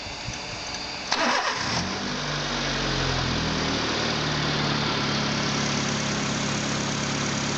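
A D16 car engine cranks briefly and catches, then settles into a steady, close idle hum that runs on evenly to the end.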